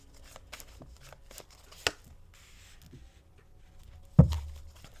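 Tarot cards being handled for a Libra reading, with light riffling and soft flicking of cards, a sharp slap near the middle and a louder thud as a card is drawn and set down near the end, close up with no voices.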